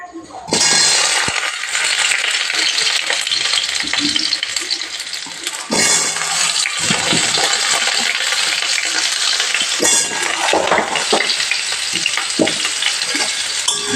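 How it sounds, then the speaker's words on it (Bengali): Potatoes and papaya fry loudly in hot oil for a chicken curry, a dense continuous sizzle with scattered clinks and scrapes of stirring, close and steady after a brief quiet start. "তেল গরম হয়ে গেছে, এবার আলু পেঁপে সব তেলে ভেজে নেব"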